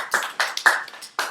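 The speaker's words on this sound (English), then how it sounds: "Can we give a round of applause for Lady Bird?" A small class claps for a classmate's homework presentation: a handful of sharp, irregular hand claps that come in short bursts and stop quickly, fairly close and with no talking.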